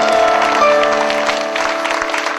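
An audience claps at the finale of a garden theatre festival in Poland, producing a loud, dense burst of applause that fades slightly over a couple of seconds, with music or tones underneath.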